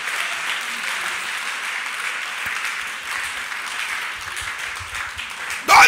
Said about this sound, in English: Are you clapping or what are you doing?